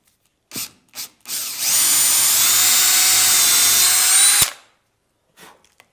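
After a couple of brief taps, a power drill whines loudly and steadily for about three seconds, biting into wood, then stops abruptly.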